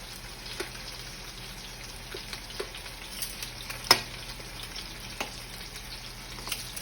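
Garlic and pepper frying low in a pan, a soft steady sizzle with occasional faint clicks and stirring taps, with no talking.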